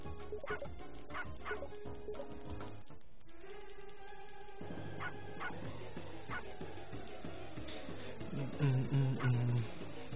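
A puppy in the video game Shantae Risky's Revenge lets out repeated synthesized yips and whimpers among game music and sound effects, steady and fairly loud throughout.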